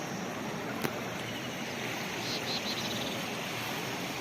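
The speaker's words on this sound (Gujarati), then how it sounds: "કેવો જાય પાણી જો" Flooded river water rushing past farm fields after very heavy rain in Kutch, a steady broad roar of flowing water heard from a short distance with no talk.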